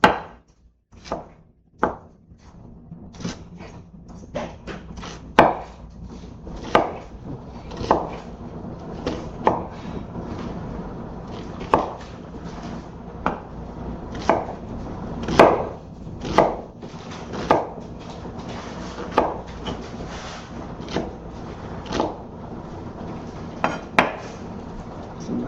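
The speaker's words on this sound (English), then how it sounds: "Cut the onion." A knife chops red onion on a cutting board for a fresh salad, giving close, irregular crisp thuds at an uneven pace with short pauses between bursts.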